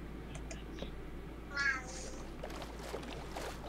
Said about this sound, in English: I hear my Georgie kitty boy.